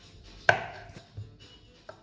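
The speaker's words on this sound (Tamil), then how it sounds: "ஸோ நல்லா ஸ்லிட் பண்ணி ஃபைனாக சாப் பண்ணிக்கோங்க." Mushrooms are finely chopped for a cheesy sandwich: a few quiet, sharp knife strikes on a board, one clear chop followed by softer, sparser taps.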